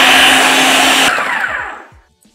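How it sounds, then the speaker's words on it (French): A kitchen blender whirs loudly and steadily as it grinds cocoa, milk powder and hazelnuts for a homemade spread, then cuts off and spins down into fading rattles. "Donc c'est parti pour le mixage."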